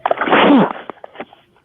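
A single loud close sneeze with a sharp intake and burst, followed by a few faint small sounds as it trails off.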